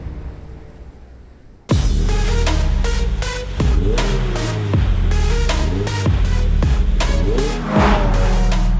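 The 2.3-litre four-cylinder Subaru boxer engine in a Toyota GR86 revs hard and loud up close, climbing and falling through repeated gear changes with sharp rises in pitch.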